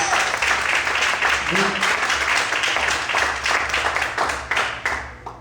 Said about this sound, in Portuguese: Bem forte as palmas para Deus